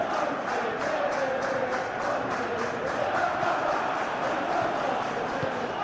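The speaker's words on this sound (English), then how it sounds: "the crowd clearly like what they just saw" A stadium crowd roars in a football video game during a Chelsea versus Barcelona Champions League match, a loud, sustained wall of cheering that fills the whole stretch with no commentary over it.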